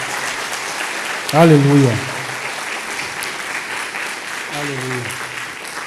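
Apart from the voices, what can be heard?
congregation applause in church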